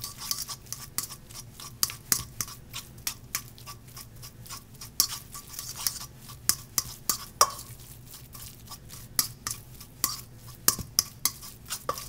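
Deviled egg filling blended with sundried tomato basil walnut pesto in a bowl, with rapid rhythmic clicking taps of a utensil against the dish and uneven strokes repeating close up over a quiet hum.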